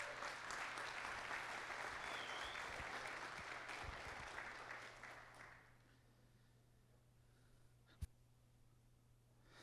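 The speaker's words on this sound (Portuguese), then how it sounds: "Senhoras e senhores, uma salva de palmas para Ricardo Carbajo." A round of applause at an executive of the year tribute ceremony in Brazil, dense clapping for about five seconds that then stops, leaving quiet room tone with a single sharp knock near the end.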